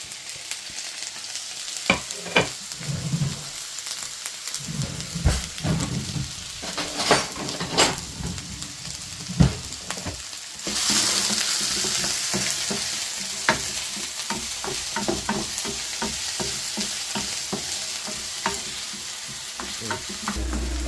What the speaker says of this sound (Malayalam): അരിഞ്ഞ് വെച്ചേക്കുന്ന വെളുത്തുള്ളി, ഇഞ്ചി, പച്ചമുളക്, ഉള്ളി എല്ലാം കൂടെ ഇട്ട് കൊടുക്കാം.